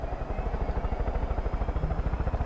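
A helicopter in the video game Far Cry 5 thumps steadily, loud and close, with a continuous rapid rotor beat and engine drone and no talk over it.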